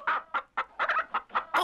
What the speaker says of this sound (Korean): 닭들을 불러 모아서 시끄럽게 울도록 했어요.